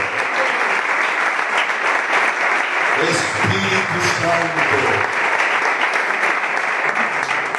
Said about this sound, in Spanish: Yo le doy un aplauso.